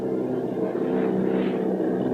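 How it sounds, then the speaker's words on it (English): Army bomber planes drone overhead in a War of the Worlds radio drama, a loud, steady engine roar that swells slightly and sustains without voices. "Army bombing plane V-843 off Bayonne, New Jersey. Lieutenant Bolt commanding 8 bombers."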